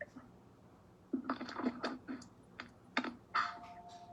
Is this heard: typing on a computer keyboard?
yes